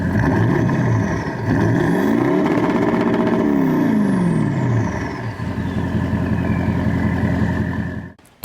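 A Toyota 200 Series rumbles through a 4-inch stainless GSL exhaust, revving up and down in rising and falling sweeps before settling into a steady drone, loud and close, then cutting off abruptly at the end.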